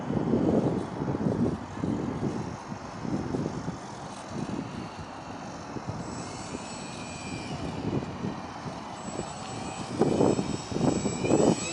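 A STOL short takeoff and landing airplane drones overhead with a steady engine roar, rising and falling as it passes, heard fairly loud and continuous without speech.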